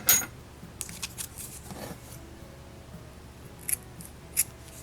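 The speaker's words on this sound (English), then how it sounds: "So now we need to cut our yarn." Scissors snipping through yarn while finishing a crochet piece: a few light, crisp cuts near the start, then quiet handling and two faint clicks, with no talking.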